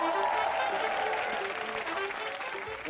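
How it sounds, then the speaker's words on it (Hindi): A studio audience on a television entertainment show applauds loudly and continuously, a thick, even wall of clapping with a faint musical tone beneath. "जोरदार तालियां हो जाएं।"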